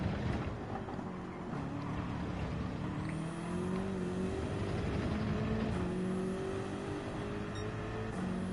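Race car engine in Gran Turismo 7, a continuous droning whine that steps up and down in pitch through gear changes, with steady road noise underneath.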